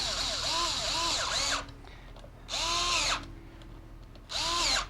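A cordless impact gun drives clutch bolts down evenly, three whirring bursts with changing pitch and brief gaps between them, close up, with faint background hum.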